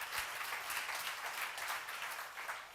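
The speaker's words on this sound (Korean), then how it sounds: "박수로 하세요." Congregation at a church seminar applauding together, a steady dense wash of clapping sustained throughout at moderate level.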